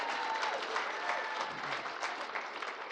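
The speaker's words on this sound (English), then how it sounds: "A round of applause for them." Sustained applause fills the room at an awards gala, with steady dense clapping from a sizable audience throughout, loud and close, with no pauses.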